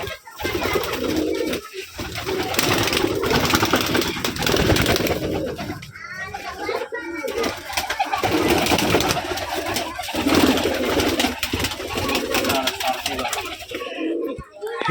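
Gerebaj pigeons in a crowded loft on a Rajshahi pigeon farm coo steadily and densely at close range, while people talk over the birds throughout.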